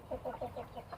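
Chickens cluck softly and rhythmically while feeding on onions, with a rooster chasing the chicks nearby; the short, faint, repeated clucks are heard alone, without any voices.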